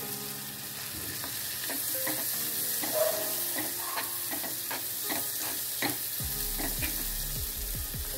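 Chopped onion and carrot sautéing in a pan as filling for veg crispy rolls: a steady, close sizzle of frying with repeated scraping and stirring clinks from a spatula, and no voices.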